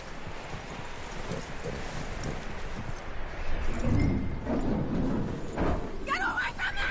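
Horse hooves clip-clop at a steady walking rhythm in Red Dead Redemption. The hoofbeats are moderately close and mixed with outdoor ambience, and voices talk over them.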